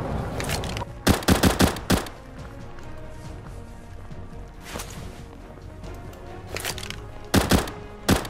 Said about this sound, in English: I'm shooting near him to scare him